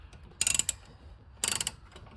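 A ratchet wrench loosens the front strut bolts on a Nissan Z31, giving two close, loud bursts of rapid metallic clicking about a second apart over quiet background.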